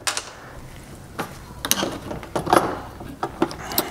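Screws being removed from a water softener control head above the brine tank: scattered metallic clicks and ratcheting ticks in irregular bursts, close and fairly loud, with no talking.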